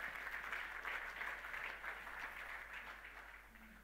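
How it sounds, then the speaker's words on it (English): Audience applause after a keynote at the SAP Innovation Summit 2018, a steady broadband patter of clapping that holds fairly even before thinning slightly toward the end, with no talk over it. "Can we have a massive round of applause, please, for Sharif?"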